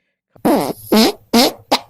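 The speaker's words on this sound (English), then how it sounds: "Stop it! Stop farting!" Four loud, close farts in a row, each a buzzy, sputtering blast, the second and third longer and the last one short, with quiet pauses between them and no talking.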